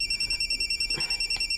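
A telephone rings with a call from the hospital: a high electronic trilling tone pulsing quickly and evenly, fairly faint and heard alone without voices.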